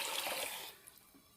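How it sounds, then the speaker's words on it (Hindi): Water is poured into a kadhai over sugar while making strawberry Karachi halwa: a loud, close rushing splash for under a second that quickly fades to a faint trickle. "1/2 kg मेरे पास पानी है, ये भी मैं इसमें डाल दूँगा।"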